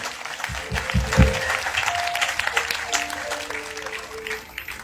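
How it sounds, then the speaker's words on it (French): Congregation in a church service clapping and cheering together, a dense burst of applause with some low thumps early on, held steady and fairly loud throughout. "On acclame très fortement le Seigneur."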